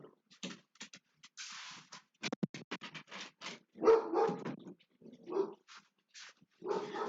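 A dog in an indoor room gives a series of irregular barks and yips, some short and clipped, some louder bursts, close by and separated by brief silences.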